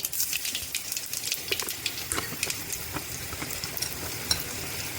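Hot oil sizzles and crackles in a wok with scattered sharp pops and occasional stirring as small puti fish fry, heard up close and quietly, no voices.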